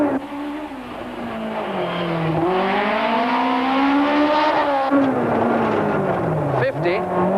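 A 1992 Swartland Rally car on slick tyres races on tarmac, its engine roaring loud and close with rising and falling revs and tyre squeal, under a voice talking.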